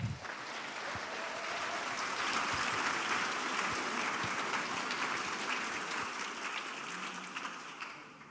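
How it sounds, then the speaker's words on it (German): Warm audience applause welcoming a speaker to a lecture on social engineering, dense clapping that swells after a moment, holds steady across the hall, then tapers off at the end. "Bitte einen warmen Applaus"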